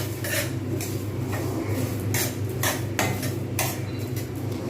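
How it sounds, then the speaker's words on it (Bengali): Rice dry-roasts in a frying pan, and a utensil stirs and scrapes it in a run of quick, crisp, evenly spaced strokes over a low steady hum; close up, with no voices. "এবারে আমি এতে কিছু চাল দেব এটা যতক্ষণ পর্যন্ত না লাল হবে ততক্ষণ পর্যন্ত কিন্তু আমি এটাকে ভাজবো"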